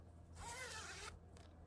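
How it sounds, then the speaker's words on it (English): Zipper on a mesh laundry bag made of organic cotton being pulled, one smooth close-up zip lasting under a second, followed by a brief short second tug, quiet and alone. "The zippers on these bags are very good quality and they're easy to open and close."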